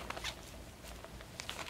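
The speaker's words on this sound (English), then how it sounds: "Zip it up." A zipper is pulled shut on a bag holding seeds and soil for a chia pet craft, a short scratchy run of ticking zips, close and fairly quiet.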